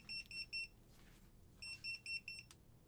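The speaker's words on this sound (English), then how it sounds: "I didn't know it beeped for that long" A ham radio POCSAG pager beeps in two bursts of three and four high-pitched electronic tones, fairly quiet, with a faint rustle between the bursts.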